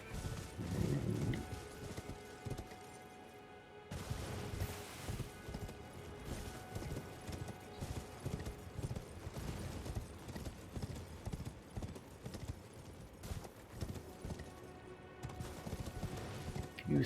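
Horse hooves galloping in the Elden Ring video game, a fast continuous clip-clop rhythm of a running mount that persists throughout, with brief crashes and game effects over it.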